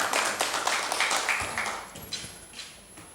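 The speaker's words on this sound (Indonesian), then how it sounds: "Tepuk tangan untuk kita semuanya" Applause from a group at a school staff discussion session at SMP Negeri 2 Demak, light scattered clapping that thins out and fades over a few seconds.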